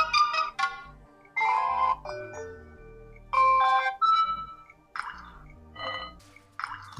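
Melodic water-drop ringtone from a HOTWAV Hyper 7 phone, plinking tones in short bursts, bright and clean, with gaps between phrases.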